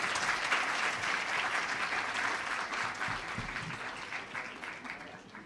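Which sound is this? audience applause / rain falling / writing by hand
audience applause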